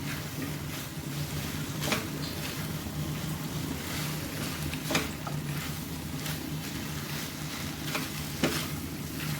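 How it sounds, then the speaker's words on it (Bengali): Broccoli stir-fries with spices in a pan for a Bengali prawn dish, a dense, loud sizzle running throughout, broken by several sharp scraping strokes of the spatula at irregular intervals. "ব্রকলিগুলো ভালো করে মশলার সাথে কষিয়ে নেব।"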